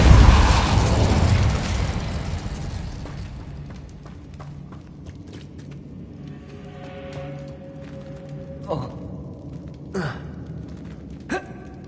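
A fiery Incendio spell bursts with a loud whooshing roar that fades over a few seconds, followed by a Compulso spell and scattered magical impact hits in Hogwarts Legacy, with a few sharp clanks near the end.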